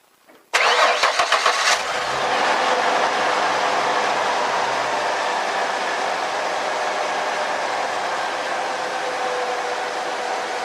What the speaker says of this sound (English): Could you go ahead and start the engine, please?